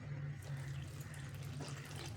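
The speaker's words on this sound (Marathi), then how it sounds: "अर्धा कप पाणी घालायचं" Water is poured into a bowl of thalipeeth batter made with rice flour, besan, poha and cabbage, giving a soft, faint steady trickle lasting about two seconds.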